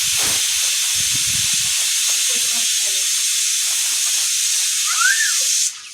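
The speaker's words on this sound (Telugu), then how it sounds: "నూనె కాగింది. జీలకర్ర, ఆవాలు, పచ్చిమిరపకాయలు," Cumin, mustard seeds and green chillies hit hot oil for drumstick sambar, letting out a loud, steady, close hiss and sizzle with a few faint crackles that cuts off sharply at the end.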